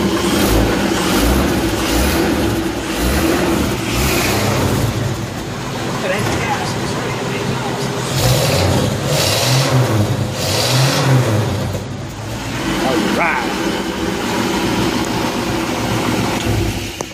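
Engine of a 1967 Boyertown Ford step van, fitted with Pertronix electronic ignition, revs up and down several times in a steady, loud mid-range roar that swells and falls over idle.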